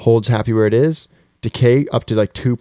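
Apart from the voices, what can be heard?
None of the usual background noises is heard.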